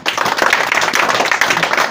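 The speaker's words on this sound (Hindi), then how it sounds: "और हमारे हेमंत के लिए तालियां बजाओ।" An audience claps for a student named Hemant at a village-level school event, producing dense, steady applause that stays loud and even across the whole moment with no speech over it.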